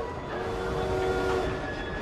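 Train rumble from the Victorian London setting of the video game Assassin's Creed Syndicate, a steady loud mechanical drone with sustained tonal whine, continuous throughout with no talk.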